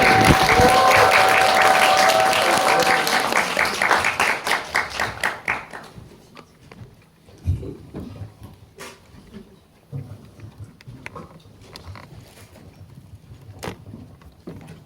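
A cinema audience at a post-screening talk in Megabox Jeonju welcomes the director and a cast member with dense, loud applause that tapers into a few sparse claps and rustling, ending in near quiet.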